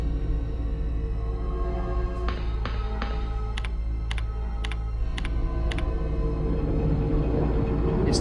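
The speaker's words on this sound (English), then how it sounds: "we have to actually summon the tram instead of activate it" A tram moving in the video game Resident Evil 2 gives a steady low mechanical rumble throughout, with a short run of sharp metallic clicks and ticks partway through and no voices.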